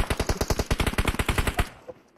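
Rapid automatic gunfire in PUBG Mobile, a steady string of about twenty loud close shots that stops abruptly, followed by a brief quiet tail.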